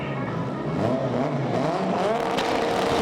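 Drag-strip launch of a Saab-powered Vauxhall Corsa against a Honda Civic in a front-wheel-drive drag series: a loud, steady engine roar that rises in pitch over a few seconds, sounding fairly close, with no talk.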